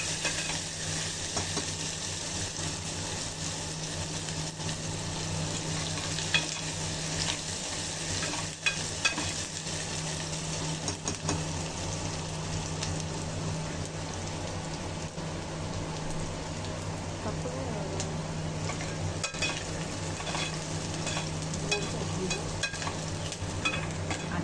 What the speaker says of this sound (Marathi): कांदा पण जास्त नाही भाजायचा,